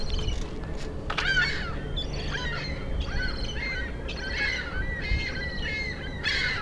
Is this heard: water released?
no